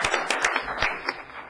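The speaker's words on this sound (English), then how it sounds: "A round of applause for our fire department captain" Audience applause at a city council meeting, a short round of steady clapping from a small crowd in a room, fading after about a second and a half.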